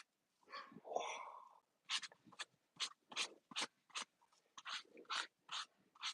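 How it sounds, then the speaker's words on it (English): A dog barks indoors, a low growly whine first and then a steady series of about a dozen sharp, evenly spaced barks, fairly faint and not close. "The dog is barking."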